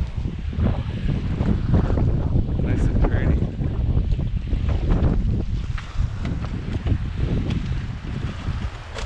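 Gusty outdoor wind rumbles and buffets the microphone continuously, loud and close, with faint voice sounds buried under the roar.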